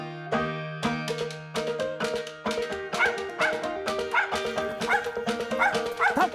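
A Mountain Feist barks at a squirrel it has treed in the woods, giving a steady run of sharp, close yips and bow-wows with a few whimpering notes mixed in.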